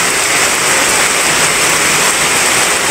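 Rain pours steadily outdoors in a Bicol province yard where a child bathes in it, a loud, even hiss of falling water that holds unchanged throughout.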